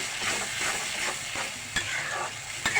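Spices with turmeric and coriander powder sauté in a hot pan, a continuous sizzle broken by repeated scraping strokes of a spatula, close and fairly loud.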